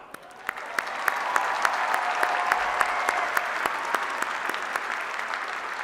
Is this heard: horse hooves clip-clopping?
no